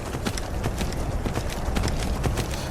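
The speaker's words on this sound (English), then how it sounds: "Yeah, I do seem to be able to run endlessly on the horse, so that's cool." Hooves of a horse galloping at a steady run in the video game Skyrim, a rapid, continuous clip-clop rhythm heard close and loud without any talk.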